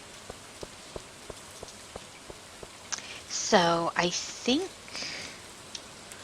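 Rain falling in the farming game Stardew Valley, a soft steady patter with faint ticking drops, while someone speaks briefly partway through.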